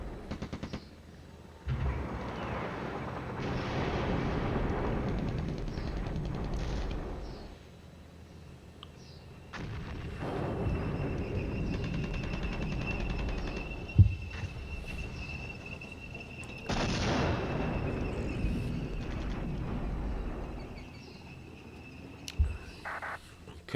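Long bursts of artillery and rattling gunfire from the Cold War wargame Flashpoint Campaigns, rumbling barrages swelling and fading with sharp isolated impacts between them.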